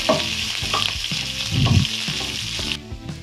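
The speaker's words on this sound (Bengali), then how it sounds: "আবার ভালো করে আমরা এটাকে ফ্রাই করে রান্না করে নেব" Chopped onion for sooji upma sizzles loudly in a pan as a spatula stirs and scrapes it in repeated rhythmic strokes, close up with no voices, the frying easing off at the end.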